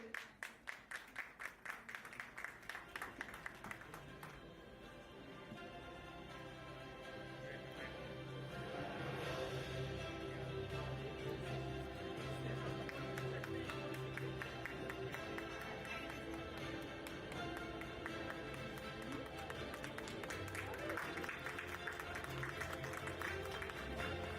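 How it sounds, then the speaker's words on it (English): Faint, distant applause from an audience at a school principals' panel event in Jammu, with early crisp clapping settling into a sustained washy crowd roar with murmuring. "A huge round of applause for all the panelists."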